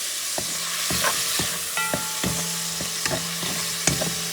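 Garlic and olives are stirred and fried in a pan for a Puerto Rican shrimp and pigeon pea rice stew, a steady close sizzle broken by repeated scraping and clinking of a spoon against the pan.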